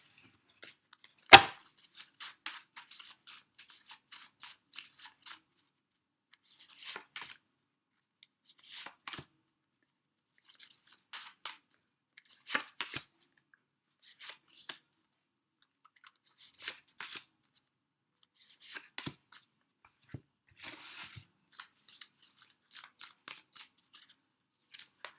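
Tarot cards handled and laid down during a reading, with sparse soft snaps, slides and taps scattered across the clip, one sharper slap near the start, all fairly quiet and with no voice.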